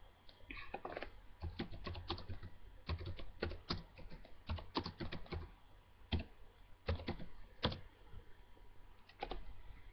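Someone types on a computer keyboard in quick irregular bursts of clicks, with short pauses between runs of keystrokes; the sound is close and fairly quiet.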